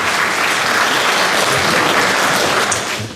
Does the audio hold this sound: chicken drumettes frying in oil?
no